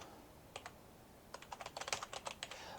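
Typing on a computer keyboard while entering a spreadsheet formula: a couple of isolated key taps, a pause, then a quicker run of crisp, close keystrokes, with no talk.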